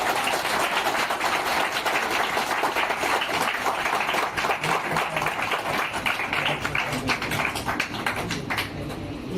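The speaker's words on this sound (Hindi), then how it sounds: "इसके लिए सबसे ज़्यादा तालियां इनके लिए बजनी" Steady, dense applause from a seated audience at a farewell event for a coaching academy teacher, continuous and fairly loud throughout, tapering slightly at the end.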